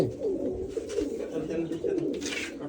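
Pigeons coo in a continuous low, throaty murmur close by, with a steady overlapping rhythm and no clear gaps.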